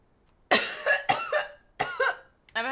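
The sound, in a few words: coughing fit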